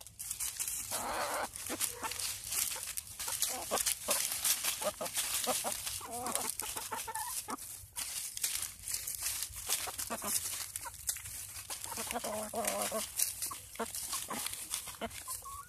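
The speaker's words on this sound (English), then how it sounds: "That's six roosters." Chickens and roosters clucking on a farm with mixed game birds, a busy chorus of overlapping clucks and calls close by, with brief human talk in the background.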